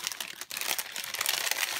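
Crinkling plastic packaging handled while unwrapping felt daisy stickers and other Easter craft embellishments, a continuous close run of crackly rustles with one brief pause, fairly quiet and without speech.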